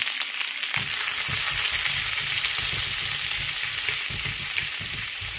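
Onions are tossed into a hot wok already popping with mustard seeds for a chicken and spinach curry. After a short quieter moment, a strong sizzle bursts in and continues with soft stirring scrapes, and there is no speech.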